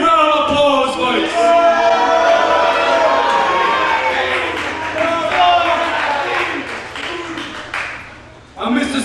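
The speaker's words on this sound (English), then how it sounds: "Big round of applause, folks" Loud crowd applause with cheering fills a wrestling event hall, sustained and dense throughout before dropping briefly near the end and surging back.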